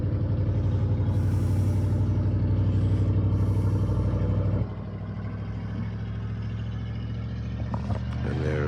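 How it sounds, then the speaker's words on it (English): Vehicles roll through town during the Fort Nelson wildfire, with a loud steady engine rumble up close that drops to a lower idling drone partway through, plus faint rattles. "As the vehicles cruise through."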